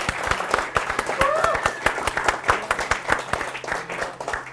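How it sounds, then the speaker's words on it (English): A small audience claps for the speakers at a weekend tech event, with dense, distinct handclaps in an uneven rhythm close by, and a voice talking over the clapping. "let's just give one more quick round of applause to all of our speakers"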